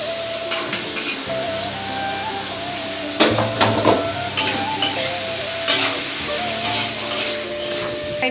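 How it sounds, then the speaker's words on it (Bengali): Vegetables, green beans and carrot among them, frying in a pan for egg chow mein, with a steady loud sizzle and repeated scraping stirs of a spatula, close up and without talk. "এটা একটু ভাজা ভাজা হোক"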